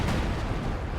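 A concentrated artillery mortar barrage in the Company of Heroes 2 strategy game, a dense, loud, continuous rumble of overlapping blasts with no pauses.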